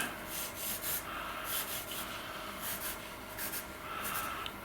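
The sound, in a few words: pencil lines being rubbed out with an eraser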